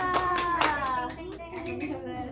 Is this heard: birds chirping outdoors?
no